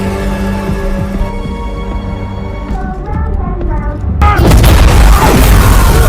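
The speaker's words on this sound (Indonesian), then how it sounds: "Milik Kiddy dan CS di sini pun mendapat kejutan berupa ledakan yang disiapkan oleh Dan" A staged explosion in an action film scene bursts in loud and sudden partway through, a broad roaring blast that swells over a busy musical score and carries on to the end.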